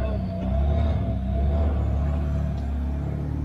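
A small fishing boat powered by a Volkswagen Golf car engine runs on the calm Black Sea, a steady low droning rumble that stays close and even throughout with no voices.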